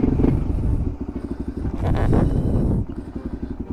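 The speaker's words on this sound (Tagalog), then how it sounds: "Ito yung power pipe na Apido" A Suzuki Raider R150 motorcycle fitted with an Apido power pipe idles with a loud, close, rapid popping exhaust pulse, swelling into a brief throttle blip before settling back to a choppy idle.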